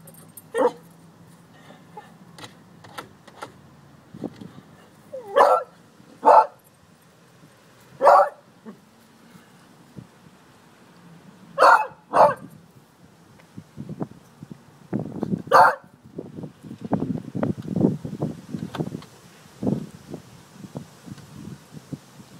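A dog barks in scattered single yips and short bursts over a stretch of play with a ball, interspersed with whimpers and rustling, fairly close.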